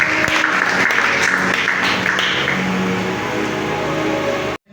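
A church congregation applauding during a Sunday service, a dense, steady wash of clapping from many hands that carries on evenly before cutting off abruptly at the end.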